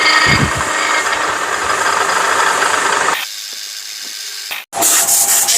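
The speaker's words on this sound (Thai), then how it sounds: "จะมาเจาะด้านข้างกัน กำลังเจาะ" A power drill bores sideways into a piece of wood, a loud, grinding whine for about three seconds, then a sudden drop to quiet, a brief gap and a short burst of noise.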